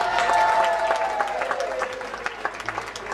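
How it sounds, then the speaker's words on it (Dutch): Audience applause for Bergen op Zoom at an outdoor concert, steady clapping from a crowd with a tonal hum underneath, gradually thinning toward the end. "Applaus voor Bergen-op-Zoom."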